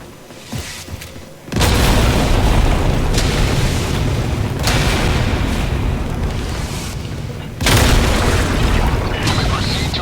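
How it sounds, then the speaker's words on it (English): Orbital barrage strikes in the video game Helldivers: deep, heavy booming explosions land in loud overlapping waves, with a fresh blast surging in near the end, under occasional game voice lines. "Firing orbital barrage."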